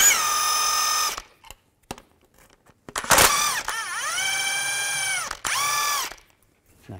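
A power ratchet with a 16mm socket spins out the front lower control arm bolts on a 2006-10 Volkswagen Jetta, whining close and loud in three bursts with short pauses between them.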